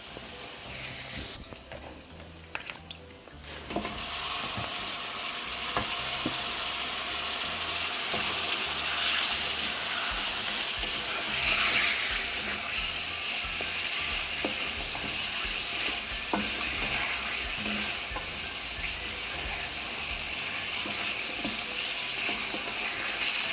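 Fish heads fry with curry powder and spices in a pan, a continuous close hiss and sizzle with occasional stirring clicks, quieter at first and then steady.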